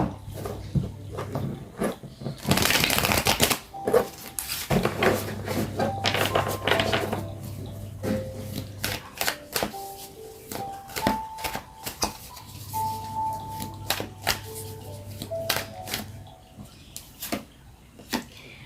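Tarot cards being shuffled and handled nearby, a run of crisp riffling bursts and flicks with scattered taps, alone without talk.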